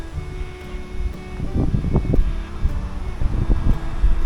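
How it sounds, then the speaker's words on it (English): Gusty wind buffeting the microphone outdoors at Valley Forge park, a low rumbling roar that rises and falls throughout. "It has cleared up and turned windy."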